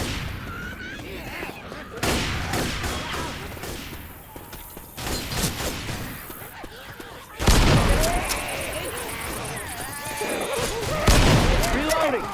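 Shotgun blasts in the Left 4 Dead 2 'Heavy Rain' campaign: several loud, booming shots and bursts of game chaos at irregular intervals, with voices heard between them.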